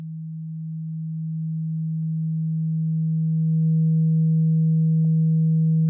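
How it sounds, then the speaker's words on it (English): A sine tone run through a Fracture audio effect holds steady and loud, with a fainter higher partial alongside, rising gradually in level for about six seconds, with no voices. "Fracture is a way of doctoring the sound"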